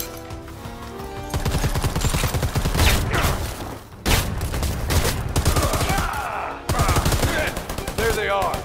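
Minigun in Predator: Hunting Grounds unleashing long, rapid bursts of gunfire, loud and close, broken by short pauses, with voices shouting briefly under the shooting.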